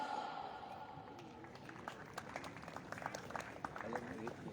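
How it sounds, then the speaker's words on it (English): An audience applauds to welcome Standard 10 student singers at a school event, a faint scattered clapping from a crowd that builds slightly over a few seconds, with background chatter underneath. "So audience, let's welcome them with a great applause."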